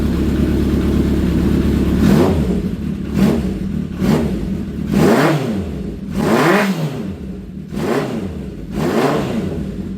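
A Honda CB750 cafe racer motorcycle, freshly running after a carburetor rebuild and still cold, revs hard in about five separate bursts, each throttle blip rising and falling, loud and close.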